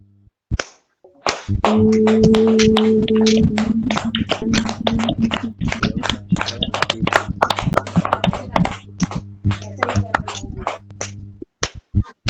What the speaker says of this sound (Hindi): योगाचार्य के लिए एक बार ताली बजा दें सभी लोग।